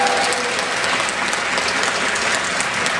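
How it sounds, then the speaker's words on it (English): Audience applause closing a stand-up comedy show, a full room clapping steadily and loudly for a few seconds with no talk over it. "let's give everyone who came here a round of applause"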